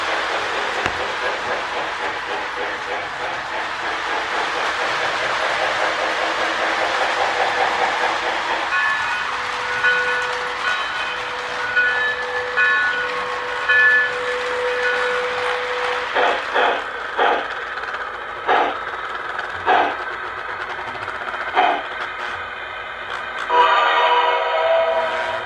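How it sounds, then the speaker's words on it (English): A Lionel model train with a sound-effects tender runs continuously, its electronic chugging and rail clatter steady and fairly loud, broken later by repeated short whistle or horn blasts. "now I got another train sounds tender, so I can run that."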